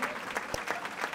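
Spectators at a home Champions League qualification match applaud, a short burst of dense clapping with several louder individual claps popping out near the listener.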